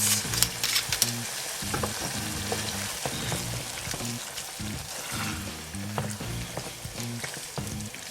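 Spaghetti sizzles steadily in olive oil with a splash of sherry, a close, continuous broadband crackle with scattered pops and occasional stirring knocks, while a low musical bed plays underneath throughout.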